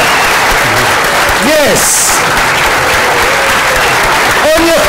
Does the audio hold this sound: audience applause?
yes